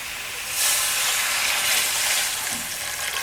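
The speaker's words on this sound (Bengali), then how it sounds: "আমার কষানো হয়ে গেছে, এবার আমি জল দিয়ে দেবো।" Water poured into a pan of hot, well-fried masala for a drumstick curry, giving a loud, steady hiss and sizzle of steam that surges early and stays broad and continuous to the end.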